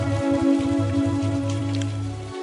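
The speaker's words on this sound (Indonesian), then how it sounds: "terdengar suara percikan air hujan" Rain falls on the tiled roof of a house in the afternoon, a steady close patter over a low droning hum throughout.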